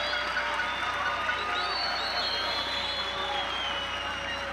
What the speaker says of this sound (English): As the fans cheering at 87.